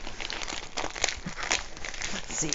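A small zippered plastic bag from a diamond painting kit crinkles loudly and continuously up close as it is handled and flexed.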